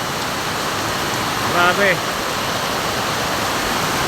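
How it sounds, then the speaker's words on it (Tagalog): Heavy typhoon rain pours down in a dense, steady roar, loud and unbroken throughout, as someone briefly speaks over it. "Pag ganito tong ulan mga kadol, pag makita ay magdamag to"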